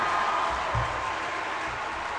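Crowd cheering and applause at a girls' high school volleyball regional championship, a steady broad roar of many voices filling the gym, with a brief swell partway through.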